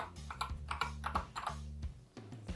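Keys clatter on a mechanical keyboard fitted with Gateron optical switches, a quick uneven run of crisp clicks and thocks at close range with short pauses, and nobody speaks.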